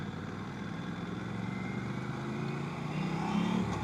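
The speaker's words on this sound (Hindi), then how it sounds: "तो ये बेसिकली उस फ़ैन की आवाज़ थी" Steady whooshing hum of an Aprilia motorcycle's radiator cooling fan on the right side, running continuously at an even, moderate level with no speech.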